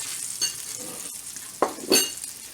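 Sausage browns in a pan with a crackling sizzle, broken by loud scrapes and clinks of a spatula against the metal, close by with no talking.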